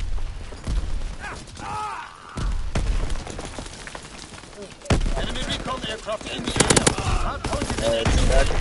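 Gunfire in a World War II shooter video game, with dense, loud bursts of automatic fire and shots crackling almost without pause, mixed with battle noise and someone talking over it.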